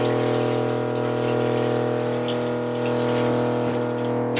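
Cold tap water runs steadily from a faucet into a sink to cool freshly blanched peas, a continuous close hiss with a faint pump-like hum underneath.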